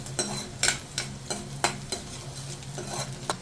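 Two chopped green chillies sauté in a pan for a ginger curry, giving a soft steady sizzle under regular, close scraping stirs about twice a second. Nobody speaks.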